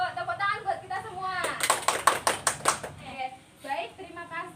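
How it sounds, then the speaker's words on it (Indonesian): A short burst of hand clapping by a class of children breaks out between stretches of speech, a few seconds of sharp, closely spaced claps, fairly close and moderately loud. "Tepuk tangan buat kita semua."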